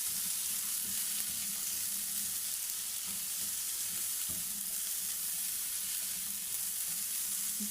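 Bitter gourd (ampalaya) with onion and shrimp paste (alamang) sizzles in a hot pan, a steady, even frying hiss with soft stirring scrapes and no talking over it.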